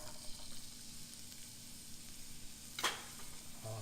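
Chopped onions sizzle in hot oil in a pan for smoked fish fried rice, a steady quiet frying hiss with one sharp clatter near the end.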